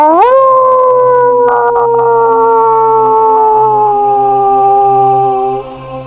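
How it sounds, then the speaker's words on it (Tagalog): A loud, sustained howl rises at the start and holds a long wavering tone for several seconds before trailing off, with a low rumbling drone beneath it. "Isang malakas na alulong na naman ang pinakawalan niya."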